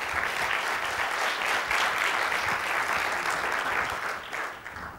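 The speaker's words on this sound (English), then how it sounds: "an applause for them would be nice" A conference audience applauds the organizers with steady, dense clapping that fills the room and tapers slightly at the end.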